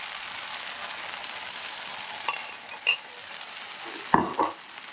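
Eggs being stir-fried into Hawaiian fried rice: a steady soft sizzle underneath, broken by a few clinks and scrapes of a utensil against the pan, close and fairly quiet.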